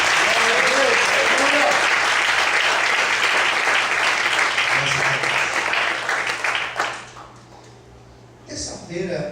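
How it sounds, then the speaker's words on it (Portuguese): A church congregation claps loudly and densely for several seconds, then the applause thins and falls away, with a brief flurry returning at the end. "Desocupa a sua mão e aplauda o Senhor essa noite"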